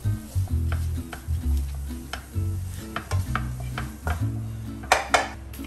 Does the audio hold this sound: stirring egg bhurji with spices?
yes